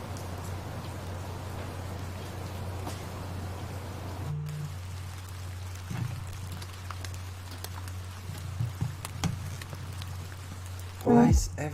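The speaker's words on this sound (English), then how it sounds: "I haven't used rain samples in so long." A rain sample in a jazzhop beat: steady soft rain patter runs under a low droning beat, with a few faint thumps and a brief louder clatter near the end.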